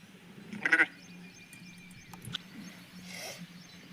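A sheep gives a single short, loud bleat while being dosed with Bovi Flux calcium medicine, followed by quiet rustling and faint handling sounds nearby.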